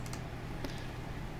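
A computer keyboard key, the ESC key, pressed while drawing shapes in PowerPoint: a few soft, brief taps spread over a steady background hiss, no voices.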